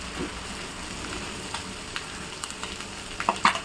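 Whole eggs fry in a pan with masala, giving a steady close sizzle with small crackles and pops that grow sharper toward the end, with no voices.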